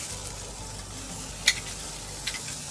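Thick chicken breast frying in a pan, a steady soft sizzle with a sharp tap or clatter at one point and a lighter knock shortly after, no voices.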